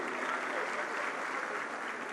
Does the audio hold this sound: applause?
yes